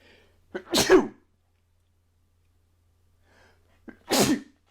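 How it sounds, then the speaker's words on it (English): Two sharp, loud sneezes close by, each with a quick intake before the burst, separated by a few seconds of silence. "I was fighting that sneeze off for a while and I couldn't fight it off anymore."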